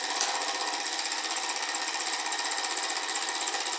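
A homemade Stirling-type engine runs almost at full speed, giving a rapid, even mechanical chatter that stays steady and fairly quiet throughout.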